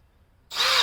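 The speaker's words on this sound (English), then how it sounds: "So now we have a little bit of noise while I'm drilling this out." A cordless drill with a 9/32 bit boring into an RV starts abruptly after a brief quiet moment, then whines steadily and loudly up close.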